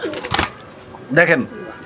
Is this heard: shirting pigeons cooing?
yes